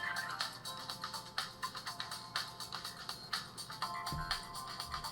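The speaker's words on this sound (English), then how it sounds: "notifications." Tinny notification tones from the weak, muffled speaker of a fake Samsung S24+ smartphone, a rapid series of short repeated chimes over about five seconds, thin and boxy with no voices.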